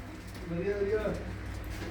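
Pigeons kept by a village fancier near Amritsar coo softly in a low, rolling burst over a steady background hum, faint and somewhat distant, with voices murmuring nearby.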